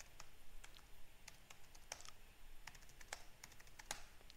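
Keys clatter on a computer keyboard as a password is typed, a quick run of faint, light clicks at uneven pace over a soft steady hiss, with no voices.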